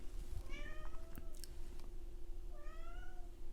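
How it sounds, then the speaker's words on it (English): A house cat meows twice indoors, two drawn-out rising-and-falling cries separated by a pause, heard faintly over a low steady hum with no talking. "The cat has been very needy lately, so she might make an appearance here in a minute"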